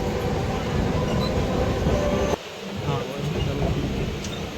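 A local train at Wadala station rumbles loudly and steadily, then the sound drops off abruptly partway through and continues as a quieter background roar.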